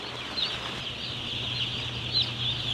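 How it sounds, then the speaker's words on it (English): Broiler chickens clucking softly in a barn, a steady low murmur of the flock with a few brief higher calls, continuous and moderately distant. "Come on, chickens, out of the way"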